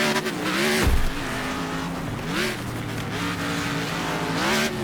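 An American V8 race car on a dirt track in Next Car Game roars loudly and continuously, its revs rising and falling through gear changes, with tire noise mixed in.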